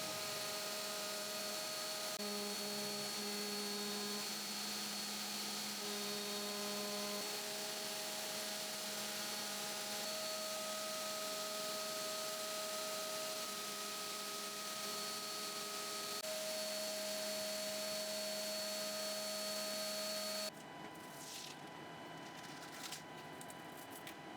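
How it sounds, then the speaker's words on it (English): A desktop CNC machine carves wooden mosaic tiles with a steady, droning whine of spindle and motors, its tones shifting slightly as cuts change, then switching to a quieter, grittier cutting noise near the end; no voices. "The machine runs mostly unattended, which means I can work on other things at the same time"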